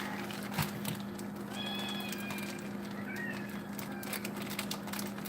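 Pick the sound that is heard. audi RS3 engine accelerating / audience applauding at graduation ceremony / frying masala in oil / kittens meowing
kittens meowing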